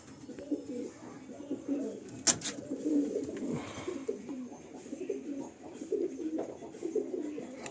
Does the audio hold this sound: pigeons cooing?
yes